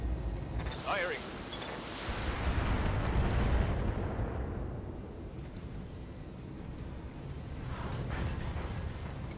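A mech in the Battletech game fires a volley of SRM missiles, producing a rumbling launch roar that swells and fades, with a whooshing streak early and another near the end.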